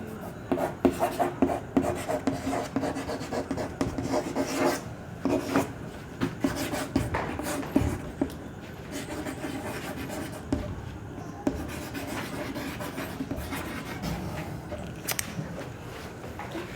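Chalk or marker scratches and taps across a board during a class on binomial approximation, steady rhythmic strokes with brief pauses, close and fairly loud with no talking.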